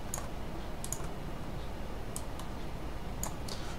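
Someone types a few scattered keystrokes on a computer keyboard, giving faint, sparse clicks over a quiet background hum.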